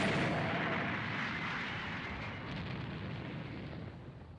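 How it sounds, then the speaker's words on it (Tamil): Loud, dense roaring blasts as creatures explode in the Dragon Ball Z Kakarot video game, a continuous heavy rumble of explosions that slowly fades, with no voices. "மிருகங்களாம் வெடிக்க ஆரம்பிக்குது"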